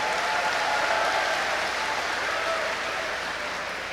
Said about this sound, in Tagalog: palakpak muna kayo para mag-materialize yan